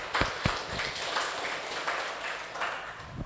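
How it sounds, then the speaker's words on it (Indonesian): A small crowd applauds at a village ceremony, a soft, steady wash of many hands clapping at middle distance, a few sharper claps standing out near the start. "Tepuk tangan buat Lambangan Wetan."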